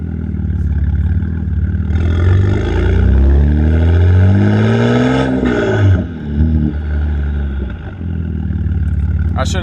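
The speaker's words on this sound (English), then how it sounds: "You can definitely hear the turbo spool a little bit too." A BMW G80 M3 engine revs hard through its exhaust, climbing and falling in pitch in repeated loud sweeps with a faint turbo spool, close to the car, before settling back toward idle.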